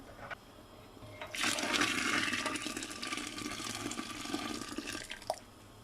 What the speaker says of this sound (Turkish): Su ilave edeceğim.